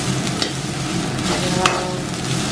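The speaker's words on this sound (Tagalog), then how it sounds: "Doon ako nagsangag sa pinagprituhan." Rice stir-fried in leftover frying oil gives a steady close sizzle with scraping and stirring, a continuous frying hiss throughout with a few faint clinks.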